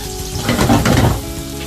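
Onion and garlic sizzle in hot oil alongside smoked meat, cooked for a dish of bamboo shoots. The sizzle is loud and close and swells through the middle of the clip with no talk over it.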